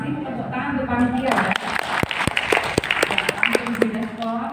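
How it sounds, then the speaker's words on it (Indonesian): Seminar audience at a small-business intellectual property and creative economy event applauds the organizers with scattered, crisp claps mixed with voices talking over them. "tepuk tangan untuk panitia"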